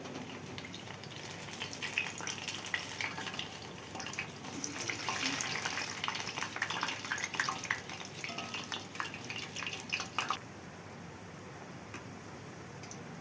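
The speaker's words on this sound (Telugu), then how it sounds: "ఓ పక్క వేగిపోతున్నాయి." Garelu, lentil fritters, sizzle steadily in hot oil, a soft crackling hiss with faint ticks that fades near the end.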